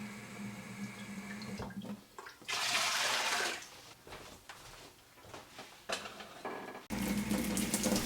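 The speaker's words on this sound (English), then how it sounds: "getting your canner ready by measuring out the amount of water you need for your canner" Water runs and splashes from a sink tap into a metal Presto pressure canner in bursts, tap noise stopping and starting, close up and fairly loud.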